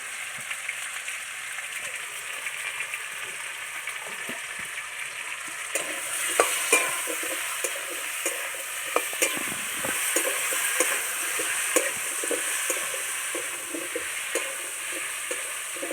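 Potatoes fry steadily in a pan for a fish curry with green banana, a continuous close hiss and crackle that grows busier partway through, dotted with small spattering pops and no talking.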